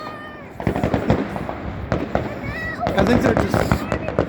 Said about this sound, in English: today we're doing Christmas fireworks.